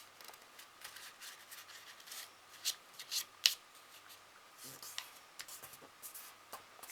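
Paper folded and creased by hand for an origami fortune teller, with soft crinkles and sharp snaps near the mic while someone speaks quietly in French.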